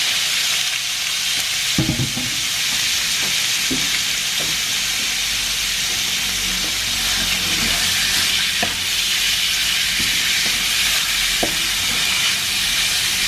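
Pork belly sizzling steadily as it fries in spread cooking oil, rendering its fat for a Filipino Igado Ilocano, with a constant crackling hiss and occasional sharper pops and stirring clatters, close and alone.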